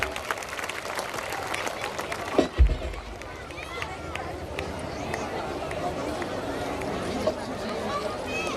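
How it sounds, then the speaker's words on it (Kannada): Applause for students at an award ceremony: a crowd claps steadily across the whole stretch, moderately loud and somewhat distant, with a sharp thump early on and voices murmuring underneath. "ಎಲ್ಲರೂ ಜೋರಾದ ಚಪ್ಪಾಳೆಯನ್ನ ತಟ್ಟಬೇಕೆಂದು ನಾನು ಕೇಳಿಕೊಳ್ಳುತ್ತೇನೆ"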